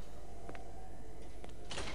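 In the video game ShadowMan, a door makes faint, soft clunks and scrapes, and a louder sliding burst comes near the end, all over a quiet hum.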